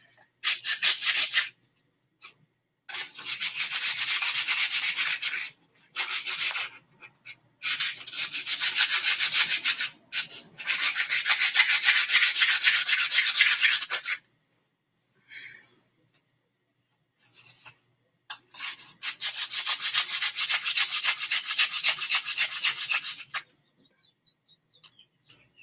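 Hand sanding of a wooden wand in repeated bursts of scratchy rubbing, separated by short silent pauses, close and fairly loud.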